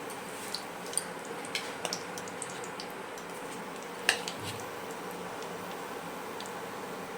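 Hot oil with a bay leaf in a pan gives off faint, sparse crackles and pops, a few light ticks over a quiet, low hiss.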